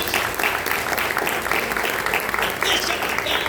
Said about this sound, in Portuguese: Só os que crêem dão uma linda salva de palmas para o Senhor Jesus